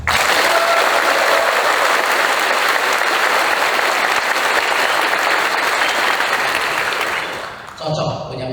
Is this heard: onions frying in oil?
no